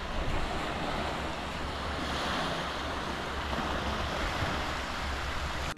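Sea waves on the south France coast near Toulon roll in as a steady, loud wash of surf, mixed with wind buffeting the microphone throughout.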